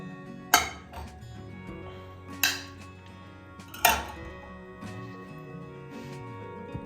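A large metal spoon knocks and clinks against a pot while ingredients for rasam are separated, giving three sharp strikes followed by softer scraping taps.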